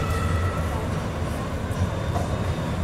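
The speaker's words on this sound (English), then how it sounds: "That's the train you'll take to the airport." A Denver rail-system train bound for the airport rolls past close by, a steady loud rumble with metallic wheel clatter and hum filling the whole stretch, with voices faintly mixed in.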